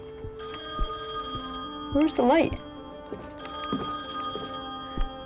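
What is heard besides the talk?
telephone ringing in the video game Song of Horror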